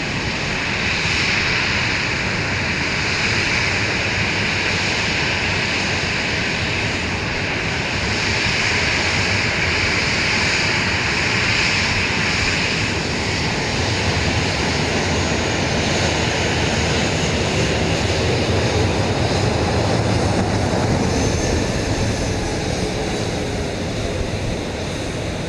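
Aircraft at Dallas Love Field, a steady loud engine roar with broad rumbling noise holding for the whole stretch, rising slightly toward the end, with no voices over it.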